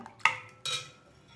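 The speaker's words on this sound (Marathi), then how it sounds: "मीठ घातल्यानंतर आपण याला थोडंसं हलवून घेऊया" A spoon stirring salt into solkadi in a kitchen vessel, two distinct metallic clinks against the bowl about half a second apart, close and fairly quiet, each ringing briefly before fading.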